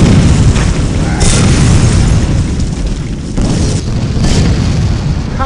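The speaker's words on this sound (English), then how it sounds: "I think that they've exploded into death." In the video game Clive Barker's Undying, enemies explode into death in loud, overlapping booms and rumbling blasts, one after another with a few bursts standing out, with no talking.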